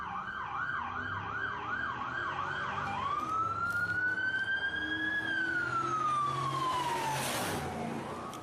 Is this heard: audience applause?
no